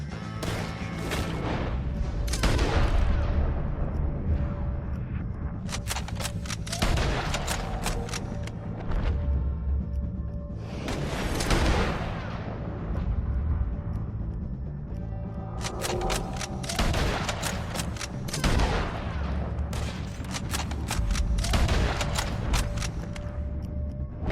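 Gunfire during a shootout with O'Driscolls in Red Dead Redemption 2, repeated bursts of sharp shots and booming reports in clustered volleys, loud and close, with no one speaking.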